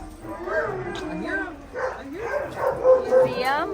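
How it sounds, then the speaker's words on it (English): Several puppies met on an Alaska cruise shore excursion give excited yips, whimpers and short barks in overlapping bursts close by, mixed in with people's voices. "we got to all meet the puppies. They were super cute, but they're also very talkative."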